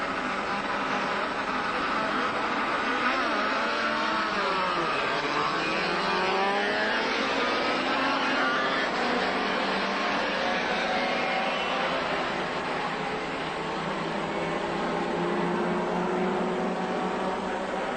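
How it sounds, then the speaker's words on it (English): A field of race cars starts the 1981 Surfers Paradise 300 endurance race, including a Toyota Celica, a Mazda and a BMW. Many engines blend into a continuous loud roar with rising and falling pitch as the cars accelerate away. "Good start from Brock, but Johnson challenging on the inside."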